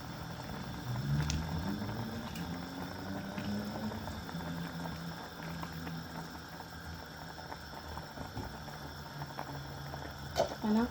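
A pot of sinigang na baboy broth boils at a steady rolling bubble, a low continuous churning with occasional clinks, fairly quiet throughout.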